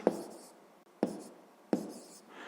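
Writing on paper during a sixth-grade maths lesson, three separate close pen strokes, each starting with a sharp tap and scratching briefly, with short pauses between them.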